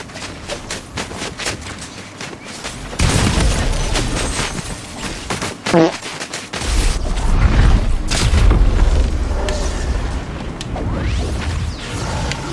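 Video game combat in Fortnite or Call of Duty: loud bursts of gunfire and booming explosions erupt around three seconds in, with a whooshing sweep and heavy blasts later, dense and close throughout.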